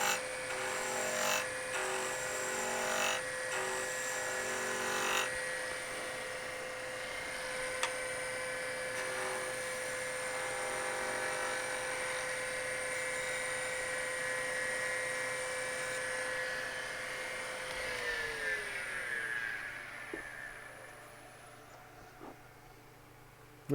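A wood lathe spins a faux lotus pod bottle stopper blank, a steady high whine with a tool cutting against it for about eighteen seconds, then pitch sliding down as the lathe spins to a stop.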